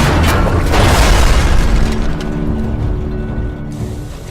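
Heavy mechanical grinding and a booming crash as wagon pinion gears are destroyed in Tomb Raider (2013), loud and continuous at first, then easing into a lower rumbling clatter.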